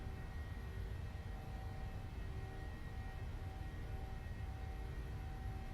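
Boeing 737-700 engines spooling at takeoff thrust in a flight simulator, a steady broadband roar with a faint high whine, constant and unbroken throughout with no voices.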